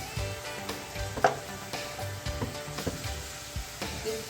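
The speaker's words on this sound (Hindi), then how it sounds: "प्याज हमारे जो है वो गोल्डन ब्राउन हो चुके हैं। मैं फ्लेम बिल्कुल स्लो कर रही हूँ" Onions frying golden brown in ghee and oil for moong chana dal, a close crackling sizzle with uneven stirring knocks and scrapes in the pan.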